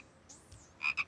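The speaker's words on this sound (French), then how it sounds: "Hé, petite grenouille, j'imagine que tu te diriges vers le grand étang là-bas" A small frog gives two quick, bright croaks near the end, preceded by faint soft rustling in a quiet cartoon scene.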